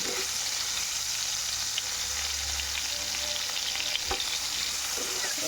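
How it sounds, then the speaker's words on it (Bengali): Prawns frying in mustard oil in a pan, a continuous close crackling sizzle with occasional stirring clicks, steady and fairly loud with no voices. "পাগুলো লাল লাল করে বেশ ভেজে নেব।"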